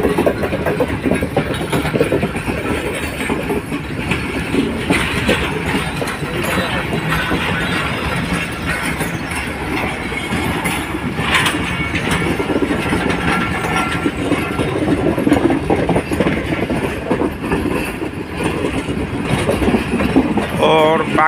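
Khyber Mail Up passenger train pulling into Rohri railway station in Pakistan, a continuous loud rumble of engine and rolling wagons with faint clickety-clack, with some voices in the background.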